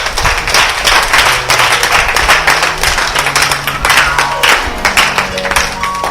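A church congregation applauds the Lord with loud, steady clapping, many hands beating in a quick, fairly regular rhythm, with faint singing or voices underneath.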